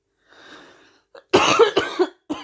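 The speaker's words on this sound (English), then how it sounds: "I'm so sorry for coughing." A faint breathy sound, then a burst of several harsh coughs in quick succession, close and loud, followed by one more brief cough.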